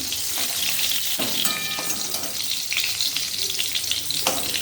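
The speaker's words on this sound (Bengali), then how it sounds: "লাল লাল করে পটলটা ভেজে নিয়েছি" Pointed gourd (potol) frying in oil makes a loud, dense sizzle that crackles on without pause, with a few faint clinks of utensils. No one speaks.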